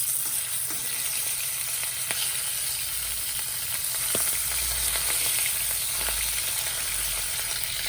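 A pan of vegetable curry sizzles with a steady, hissing fry, close and even, with occasional faint clicks of stirring and no talking.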